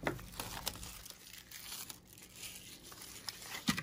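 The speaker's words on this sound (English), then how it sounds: "What do you say we unwrap it?" Plastic wrap being peeled and torn off an Encanto 4K Ultra HD Blu-ray steelbook, continuous close crinkling and crackling with a few sharper tearing snaps, quiet overall and with no talking.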